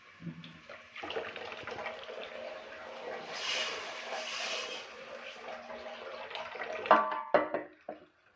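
Water pours from a tap onto tomatoes in a village kitchen, a soft running splash rising and fading across the clip, ending in a few sharper knocks and clunks.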